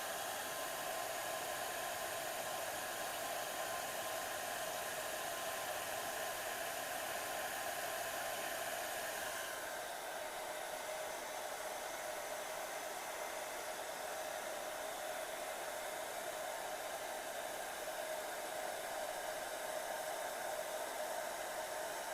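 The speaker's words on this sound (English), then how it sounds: "I got the heat setting on the high setting on the hair dryer." A hair dryer on its high heat setting blows a steady, loud whooshing hiss for the whole stretch, shifting slightly in tone partway through, with no talking.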